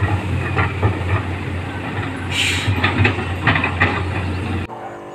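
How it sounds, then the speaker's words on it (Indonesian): A toy high-speed train runs with a whirring motor hum and rhythmic clicking, steady and close, ending abruptly after a few seconds. "Ini kereta api cepat."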